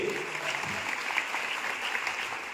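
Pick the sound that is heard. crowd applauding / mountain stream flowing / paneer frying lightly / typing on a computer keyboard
crowd applauding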